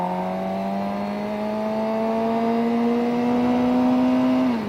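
A motorcycle accelerates in first gear as the clutch eases out and throttle is applied, its engine whine climbing steadily in pitch, then dropping off sharply at the end as the rider rolls off for a shift.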